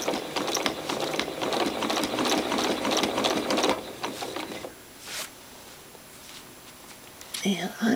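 A sewing machine stitches continuous curved quilting lines in a steady, loud mechanical run for about four seconds, then stops while the quilter repositions, with a brief restart near the end; nobody talks.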